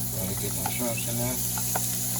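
Shrimp sizzle steadily in a hot frying pan beside frying fish, a constant close hiss with light stirring and clinking over a low hum.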